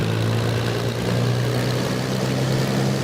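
Spitfire Mk Ia engine throttling up in Microsoft Flight Simulator, a steady loud propeller-aircraft drone with a strong low harmonic hum holding throughout, no voices.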